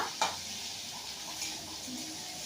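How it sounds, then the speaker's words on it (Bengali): Onions are stirred while frying in a pan for chicken kosa, making a continuous close sizzle with a light scrape of the utensil near the start. "ভালো করে নাড়ো, ভালো করে নাড়ো"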